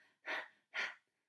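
A storyteller's voice imitates a pig panting: two loud, breathy huffs about half a second apart, close and alone with no talk.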